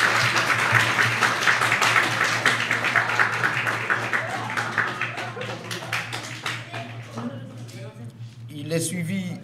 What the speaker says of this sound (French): C'est le nom et on l'applaudit.